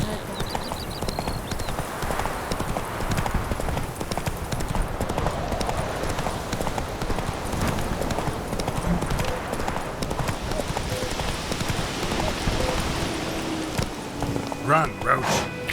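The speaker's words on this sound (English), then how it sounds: "Run, Roach." Roach, Geralt's horse in The Witcher 3 video game, gallops with rapid, loud clip-clopping hooves in a steady rhythm, a brief whinny and outdoor ambience mixed in.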